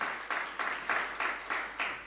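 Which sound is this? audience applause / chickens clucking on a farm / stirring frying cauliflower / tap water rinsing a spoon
audience applause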